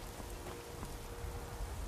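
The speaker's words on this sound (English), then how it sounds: "Oh, it's starting to rain." Rain falls in the VR game Skyrim, a soft, continuous hiss of drops with a low rumble underneath, steady and unbroken with no talking.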